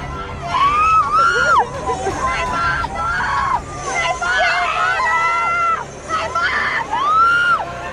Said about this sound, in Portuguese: mais gritaria dos familiares.